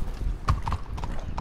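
Horse hooves clip-clop through a short stretch of Red Dead Redemption 2 gameplay, several close, hard strikes in a loose rhythm with a brief whinny mixed in.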